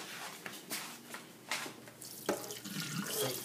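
Hot water sloshes and splashes as it is poured off boiled potatoes, in uneven gushes and bursts close by, with no talking.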